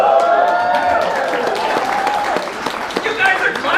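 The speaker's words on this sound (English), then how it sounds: "You guys are clapping." Applause from a comedy club audience in El Paso, a broad wash of clapping that swells and then tapers off, with the comedian talking over it.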